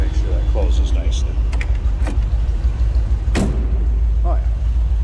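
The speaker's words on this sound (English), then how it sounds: "We close that door. I didn't push it very hard. Let's make sure that closes nicely." The door of a 1937 Chevrolet two-door Touring Sedan street rod shuts with a solid thump over a steady engine rumble, preceded by faint creaks and mechanical clicks.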